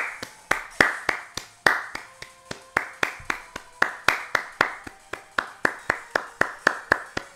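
Steady, sharp hand claps ring out alone in an even rhythm, about three per second, loud and close.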